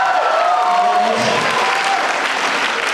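Audience applause and cheering at a gathering in Comilla, Bangladesh, a dense steady wash of clapping with whistles and shouts throughout, loud and close.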